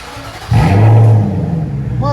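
A 2008 Infiniti M45 with dual straight pipes and an X pipe revs up sharply, its exhaust roaring loud and close for a moment before easing back to a steady rumble.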